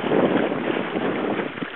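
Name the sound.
wild wind on Bantam Lake during a sailboat run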